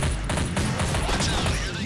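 Gunfire in the horror shooter Nightmare House, a short burst of several quick shots close and loud over a constant game rumble.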